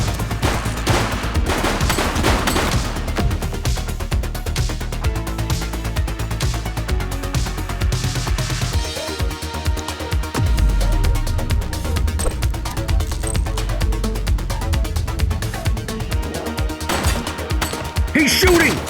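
Rapid bursts of gunfire in The Precinct police video game, dense repeated shots and fusillades running almost continuously with brief lulls, loud and close.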